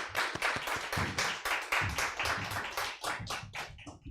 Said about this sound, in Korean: 여러분들 하나님께 박수로 영광을 드리겠습니다.